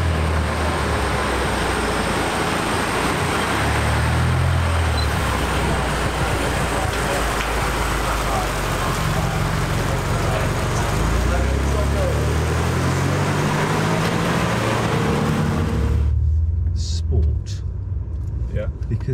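A loud BMW M car engine roars past on the Goodwood Motor Circuit with rising and falling revs and a deep rumble, then cuts away abruptly near the end.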